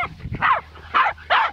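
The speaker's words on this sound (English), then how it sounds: "Hey! Stop it! You're barking." A pet dog gives several sharp, close barks and yips in quick bursts, with a short whimpering sound early on and brief pauses between barks.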